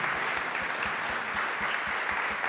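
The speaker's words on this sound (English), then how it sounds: "Let's give it a round of applause." A panel audience at a Web3 conference event claps in a dense, steady round of applause. Sharp low thumps repeat at a regular pace under the even patter of many hands.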